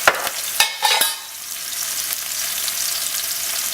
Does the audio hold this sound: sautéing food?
yes